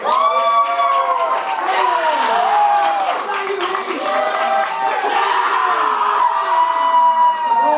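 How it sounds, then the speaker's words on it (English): Live theater audience at a comedy show applauds and cheers to vote, with whoops and shouts rising over steady clapping throughout, plus voices calling out in the crowd. "By show of applause, tell me who you want to stay."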